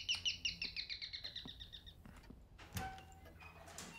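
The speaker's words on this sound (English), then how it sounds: "The bird is in here." Repeated bird chirps in the horror video game Devotion, a quick run of bright tweets in the first two seconds, then scattered clicks and knocks in a quiet indoor space.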